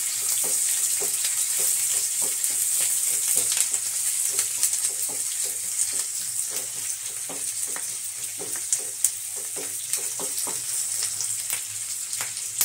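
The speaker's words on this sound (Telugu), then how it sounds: "అల్లం వెల్లుల్లి ఉల్లిపాయలు పచ్చివాసన పోయేదాకా వేయించుకుందాము." Crushed ginger, garlic and onions fry in a pan for capsicum chicken fry, giving a constant bright sizzle broken by frequent clicking spatula strokes and small taps, close and steady.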